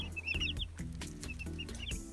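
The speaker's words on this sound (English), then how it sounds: "we have some chickens" Several farmyard chickens cluck and chatter in quick, overlapping bursts, fairly close and steady with no one speaking.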